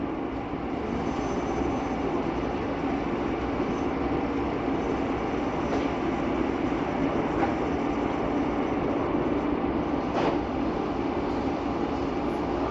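Interior rumble of the Phoenix Sky Harbor airport Sky Train, the eastbound people mover, running steadily with a broad, even drone and a few faint clicks and thumps from the track.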